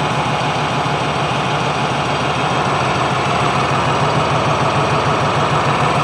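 A New Holland 5620 CRDI tractor's diesel engine idles steadily up close, a continuous low chugging rumble with no pauses and no voices.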